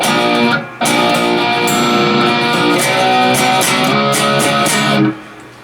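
Electric guitar chugging a distorted metal riff of power chords, from a song lesson, loud and steady with a short break near the start and an abrupt stop near the end.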